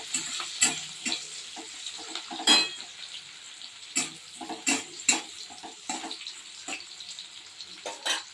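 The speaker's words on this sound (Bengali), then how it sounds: "এরপরে ওই মাছ ভাজার তেলটার মধ্যেই দিয়ে দিলাম পেঁয়াজ।" Onions frying in the oil left over from frying fish, a continuous close sizzle broken by repeated scraping stir strokes and clatters of the utensil against the pan.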